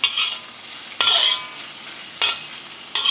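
Prawns fry and sizzle in a pan while being stirred. Bright, hissing bursts come roughly once a second, each flaring loud and then settling into a steady crackle, with no talking.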